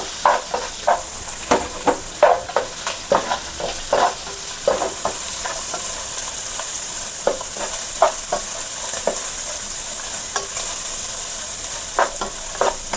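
Onions for vegetable noodles are stirred and fried in a pan: a soft, steady sizzle under regular scrapes and taps from the spatula, close by and without talk.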